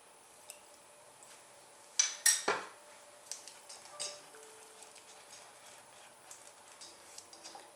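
A metal whisk clinks and taps against a bowl while butter chunks are stirred into a lemon sour cream blueberry pie filling, a cluster of sharp clatters followed by lighter scattered taps in a quiet kitchen.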